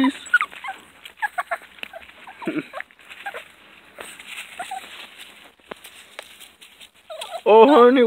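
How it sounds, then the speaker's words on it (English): Puppies whimper and yelp in scattered short bursts, joined by other animal calls, and a louder rising squeal comes in near the end. There are no clear spoken words. "Those puppies."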